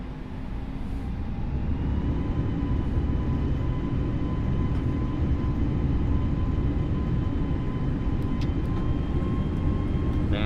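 Airliner jet engines roar steadily through a takeoff roll on a flight from Los Angeles to Honolulu, a dense continuous rumble with a high engine whine layered on top, loud and unbroken throughout.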